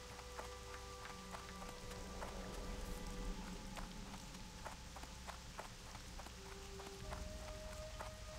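Rain falling in World of Warcraft Classic, heard as a steady patter while a gnome rides a horse through it, hoofbeats clip-clopping rhythmically over the continuous wash of rain and low ambient game music.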